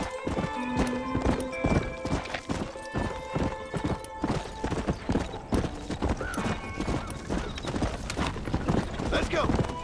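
A horse gallops in the PC version of Red Dead Redemption, with steady rapid hoofbeats and a whinny among other game sounds, while someone talks over them.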